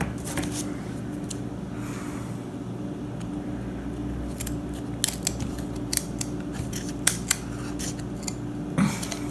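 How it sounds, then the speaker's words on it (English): Scissors snip through a Dollar Tree craft piece for a Christmas mailbox centerpiece, a run of close, crisp cuts in quick succession after a quiet start. "And now I'm going to cut this piece right here."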